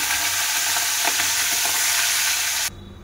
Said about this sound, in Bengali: আমি আগে চিংড়ি মাছ কটা ভেজে নেব